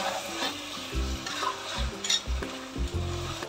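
Chopped tomato is stirred into a frying pepper chicken gravy, giving a steady sizzle with soft rhythmic stirring scrapes, close, under faint background music.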